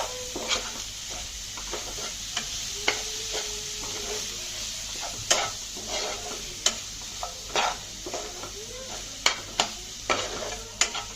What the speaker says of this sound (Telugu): ఇలా వేసాక బాగా కలుపుకోవాలి